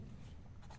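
Brief, faint scratching of a pen or marker writing a letter during a Class 10 trigonometry math lesson, a short, soft rubbing stroke over steady low background noise.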